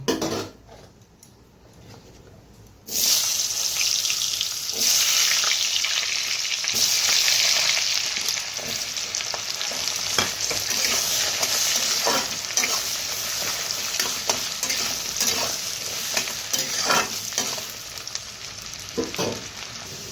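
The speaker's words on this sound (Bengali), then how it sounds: "আলুগুলো হালকা হালকা ভেজে নিয়েছি" Potato pieces fry lightly in oil that was tempered with dried red chilli, whole cumin and bay leaf, a dense crackling sizzle rising after a quiet start, with stirring scrapes throughout and no talking.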